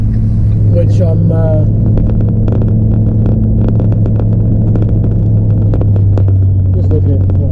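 A 6.7 diesel truck with a deleted DPF and a 5-inch straight pipe cruises with a steady deep drone and throb from inside the cab, while someone talks over it.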